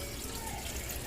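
Water pours from a pond pump into a DIY filter box, a brief, steady, faint gush and splash.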